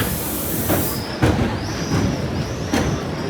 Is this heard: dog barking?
no